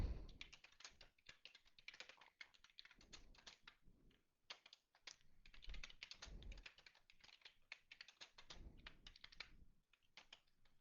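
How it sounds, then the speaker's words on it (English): Code is typed on a computer keyboard in quick, irregular bursts of key clicks with short pauses between runs, close but quiet and with no talking. "Let me type a couple more lines of code."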